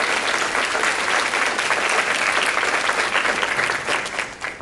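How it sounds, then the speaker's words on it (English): Warm, sustained applause from a business forum audience honoring the event committee, dense clapping filling the room steadily before tapering off near the end. "So please give a warm round of applause to our committee."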